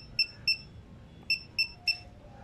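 E-bike two-way alarm system gives five short, sharp electronic beeps in two groups, clear and moderately loud over a quiet background.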